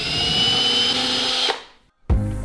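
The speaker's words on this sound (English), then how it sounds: "he's just going in and drilling the second pilot hole" A power drill with a 1/16 inch bit whines steadily at high pitch drilling a pilot hole in a Harley Tri-Glide trike trunk, stops abruptly, then starts up again after a short silence.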